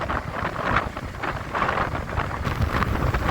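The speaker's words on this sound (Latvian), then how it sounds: "Mani pilnīgi dzen uz priekšu vējš." Strong wind at a stormy seashore buffets the microphone in loud, uneven gusts, a rough roaring rumble that swells and dips with no voices heard.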